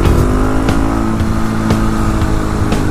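A KTM 701 motorcycle accelerates hard in third gear on a winter highway. Its loud, close engine drones steadily with a strong buzzing tone and a few sharp clicks, and no one speaks.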